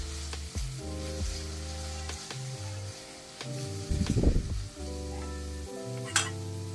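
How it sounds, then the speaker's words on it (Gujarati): Tomatoes sizzle and fry steadily in a pan over medium flame, with a few brief clinks and a louder crackling burst midway, no voices. "ટામેટાને પણ આપણે મીડિયમ ફ્લેમ ઉપર સારી રીતે પકાવવા દઈશું."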